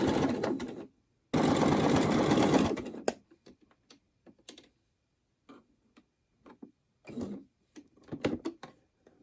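A sewing machine stitches down the middle of rolled fabric scraps, a steady rapid mechanical run lasting about two seconds, followed by scattered short ticks and clicks of the machine and handling, close and clear with no talking.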